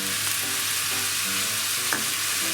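Soy sauce sizzles loudly in a pan of garlic fried rice seasoned with salt and pepper, a continuous close hiss of frying.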